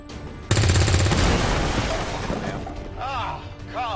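A burst of gunfire from XCOM 2: War of the Chosen, a loud sudden crack opening into a dense rattling fusillade that decays into rumbling debris, with brief chirping tones and game voices near the end.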